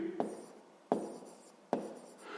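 Handwriting in a notebook while working a sixth-grade math exercise: three short scratchy pen strokes, each starting with a sharp tap and trailing off, close and fairly quiet.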